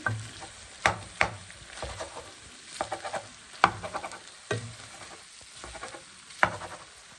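Chopped mutton liver frying in a pan, a steady close sizzle broken by several sharp spatula scrapes and clacks at irregular intervals, with no voices.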